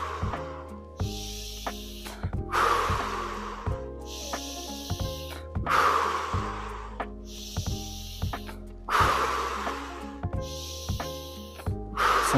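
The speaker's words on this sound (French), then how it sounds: "On inspire profondément et on laisse repartir." Deep guided Wim Hof-style breaths repeat in a steady cycle, each long airy inhale and exhale rising and falling about every three seconds, close and clear over soft background music.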